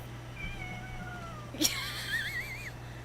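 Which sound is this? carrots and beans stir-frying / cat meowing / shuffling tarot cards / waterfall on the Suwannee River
cat meowing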